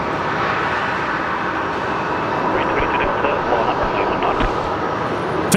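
A Fiji Airways airliner taxis at Brisbane Airport, its engines giving a continuous, fairly loud roar with a few faint clicks and murmurs of background activity over it.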